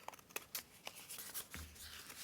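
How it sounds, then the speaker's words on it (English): Scissors snipping through two layers of paper to cut out a circle, a series of faint, crisp cuts spaced irregularly with soft rustling of the paper in between. "we'll use our scissors and we'll just cut out a circle"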